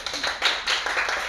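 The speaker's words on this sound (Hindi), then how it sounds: "ताली लगाओ अभी के अभी।" An audience at a Bihar coaching institute breaks into a brief burst of clapping, sharp uneven hand claps that come in several quick surges and fade within a second or so.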